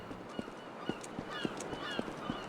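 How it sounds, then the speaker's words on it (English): Ambient birds in the Garry's Mod map Dead Center call faintly in short, evenly spaced honking chirps over a soft steady background hum. "I really love the addition of the birds"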